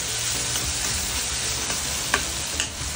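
Mashed tomatoes fry in oil with salt for a black pea (kala vatana) curry, giving a steady close sizzle with a couple of sharp spatula clicks near the end, no voices.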